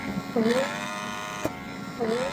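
A handheld facial vacuum blackhead remover hums steadily with a buzzy tone, its pitch dipping and sliding twice as the suction nozzle presses onto skin and lifts away, with a brief click midway.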